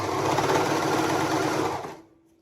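A sewing machine stitches a corset with a liner, running steadily for about two seconds with a dense, even mechanical whir up close, then stopping abruptly.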